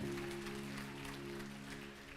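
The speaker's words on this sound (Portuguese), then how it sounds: "aplauda o Senhor bem forte" A church congregation applauds in worship, the clapping dense and steady over a sustained organ or keyboard chord that holds throughout, fairly quiet and even.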